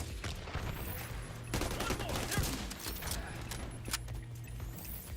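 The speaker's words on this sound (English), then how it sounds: "Here comes the barrage." Dense gunfire barrage in The Division 2, a steady wash of rapid shots and impacts running through the whole stretch, loudest in the middle, with a faint voice now and then.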